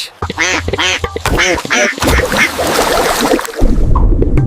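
A duck quacks loudly several times in quick succession, followed by a rushing, splashy noise.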